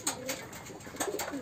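A high-flyer pigeon coos in short repeated bursts, soft and close in a quiet setting, with no one talking.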